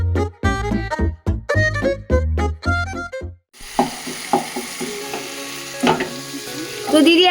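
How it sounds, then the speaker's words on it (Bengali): Spice paste with green chili sizzling in a pan for a snail curry, following a stretch of loud tonal music; the frying hiss is steady with scattered stirring clinks and knocks, close and fairly loud, with no talk. "আমরা আজকে এর মধ্যে গুগলি রান্না করছি, আর সেটার জন্য এই মশলাটা এখন কষানো হচ্ছে"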